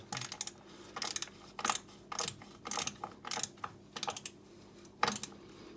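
Clicking ratchet-like bursts from tightening a TPMS valve into a Veemann alloy wheel, about nine short mechanical clatters in uneven groups, fairly close and quiet with no talk.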